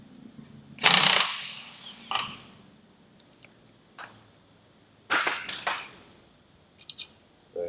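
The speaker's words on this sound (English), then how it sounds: "I'm just going to wedge a bit of wood here to stop the propeller turning while I wind this nut off" A wrench or ratchet working a nut off the propeller shaft of an outboard motor, with the propeller wedged by a piece of wood: several loud, close bursts of metallic ratcheting and scraping separated by quiet pauses.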